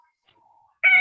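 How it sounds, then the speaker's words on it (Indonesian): A cat meows once, short and fairly loud, near the end of an otherwise near-silent moment during an online class call. "Punten ini suara kucing siapa?"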